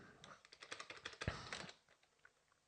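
Fast typing on a computer keyboard, a quick run of close, crisp key clicks that slows toward the end, with no talk.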